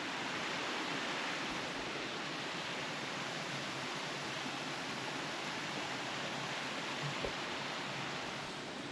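Waterfall on Helvellyn mountain: a constant broadband rush of falling water, steady and unbroken, heard from a short distance, with no voices present.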